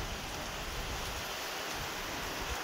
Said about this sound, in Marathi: आहे ना जोरदार पाऊस लागलाय